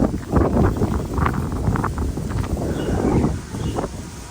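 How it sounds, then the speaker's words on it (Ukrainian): Strong wind roars and buffets the microphone continuously in a Chinese village, with fruit tree leaves rustling and swelling gusts throughout. "Щось такий сильний вітер"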